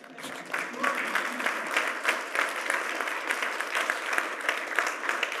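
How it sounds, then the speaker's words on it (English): Sustained applause from a large keynote audience at Cerebras AI Day, a dense, even wash of clapping that swells after a brief quiet start and holds steady throughout. "You can clap at that."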